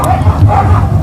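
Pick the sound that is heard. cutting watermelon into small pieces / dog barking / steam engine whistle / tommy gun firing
dog barking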